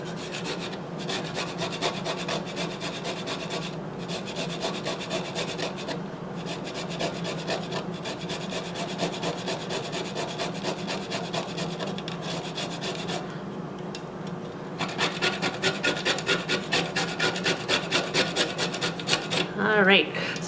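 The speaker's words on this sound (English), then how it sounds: "the advantage of using the whole nutmeg and grating it when you need it" A whole nutmeg seed being grated in a kitchen, a continuous dry rasping scrape with repeated strokes that grow a little louder and more rhythmic toward the end, close up with no talking.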